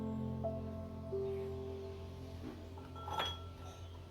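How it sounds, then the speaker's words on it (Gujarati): Garlic cloves are crushed in a quiet kitchen, giving faint, sparse clinks and knocks of hard utensils against each other. "તો આપણે બનાવવાની શરૂઆત કરશું તો લસણને પહેલા વાટી લઈશું."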